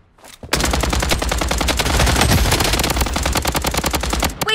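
Sustained loud machine gun fire in the video game Blood Strike, one long continuous burst of fast evenly spaced shots lasting about four seconds, close and dominant with no talk over it.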